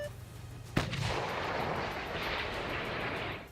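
A self-propelled howitzer fires shells in a single sharp, loud blast, followed by a long rumbling roar that keeps sounding through the rest of the moment, with no talk.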